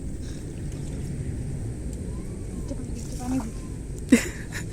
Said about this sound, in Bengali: নৌকা দেখে আপনারা একটু অবাক হতে পারেন যে নৌকা করে আবার কোথায় যাচ্ছি